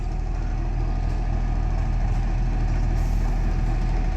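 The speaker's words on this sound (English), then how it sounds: "to see the engine turning around and going around to the front of the train so it can go back again" A train engine turns on a turntable at Drayton Manor theme park, giving a steady, close engine rumble like an idling motor that holds even and continuous throughout, with no talking.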